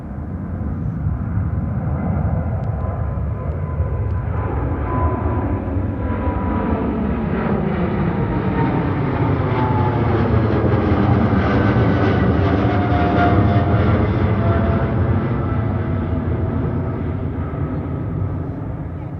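A China Eastern Boeing 777-300ER passes at Heathrow Airport, producing a loud, steady jet roar with sweeping, shifting tones that swell toward the middle and ease off slightly at the end.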